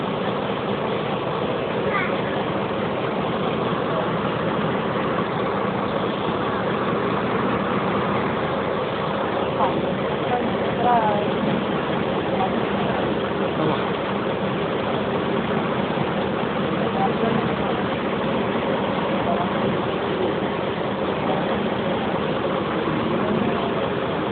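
A large Ashok Leyland lorry engine idles aboard a river ferry crossing the Godavari near Narsapuram, a loud, steady, unbroken diesel rumble throughout, with voices speaking faintly at times.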